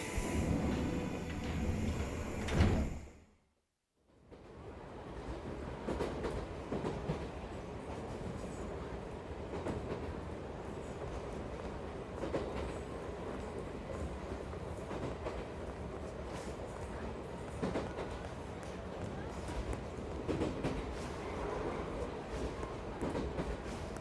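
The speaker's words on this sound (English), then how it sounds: "That's the wrong train." A train in the video game 13 Sentinels: Aegis Rim, rumbling steadily with rhythmic clickety-clack of wheels on rails, continuous and fairly close after a brief silence near the start.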